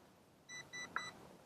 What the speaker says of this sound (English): Okay, so it beeps twice.